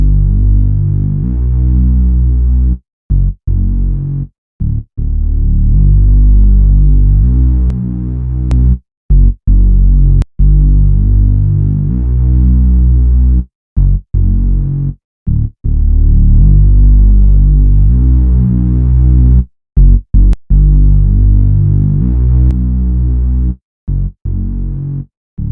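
Deep, sustained bass guitar notes run through a compressor, thick and evenly levelled with smooth, steady loudness, broken by brief silent gaps between phrases.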